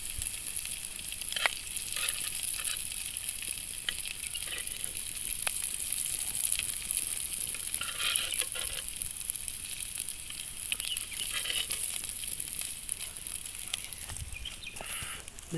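Prawns fry in hot oil in a home kitchen, a steady close sizzle that carries on throughout with occasional stirring clinks.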